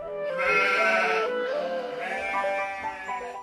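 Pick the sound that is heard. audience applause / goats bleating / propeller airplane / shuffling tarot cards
goats bleating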